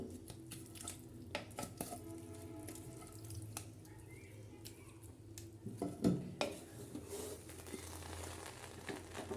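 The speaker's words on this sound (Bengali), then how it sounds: "খুব ভালো করে নাড়াচাড়া করে নেব" Chicken biryani being stirred in a pot, quiet scraping and clinking of a spoon against metal with scattered soft knocks and a louder clatter midway, no talking.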